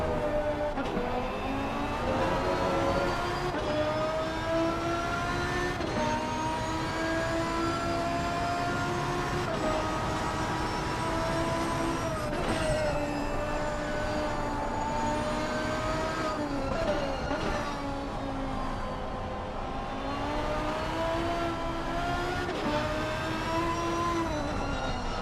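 Onboard sound of a racing car lapping the Nordschleife during a 12-hour endurance race: a steady, loud engine drone whose pitch rises and falls through gear changes and corners for the whole stretch, with no talking.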